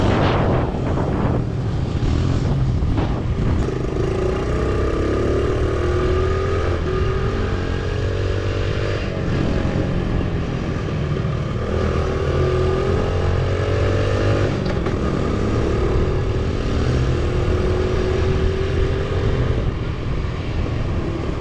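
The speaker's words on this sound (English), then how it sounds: "This is the only 4-stroke bike that I've ever wheelied that was as easy to wheelie as a moped." Four-stroke 140cc mini stunt bike engine revving hard and steadily near the listener, with rising and falling pitch sweeps as the throttle is worked through wheelies, no talk over it.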